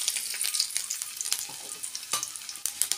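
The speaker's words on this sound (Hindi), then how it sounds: "तेल हमारा हो गया है गरम और अभी डाल देते हैं लहसुन को" Garlic frying in hot oil in a pan during village-style Indian saag cooking, a dense close sizzle crackling continuously with scattered sharper pops throughout.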